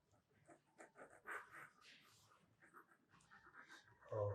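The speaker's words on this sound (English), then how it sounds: "these are my puppies." Faint, high puppy whimpers and little squeaks come and go among quiet panting and soft shuffling, all close and hushed, with the mother dog nearby.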